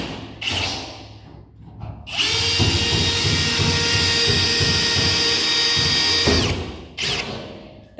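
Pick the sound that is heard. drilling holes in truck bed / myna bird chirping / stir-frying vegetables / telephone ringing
drilling holes in truck bed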